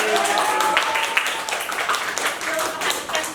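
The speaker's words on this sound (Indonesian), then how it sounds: "tepuk tangan dulu untuk kita semua." A school class claps hands together at the end of a lesson, a loose burst of clapping from a room of students with some voices mixed in.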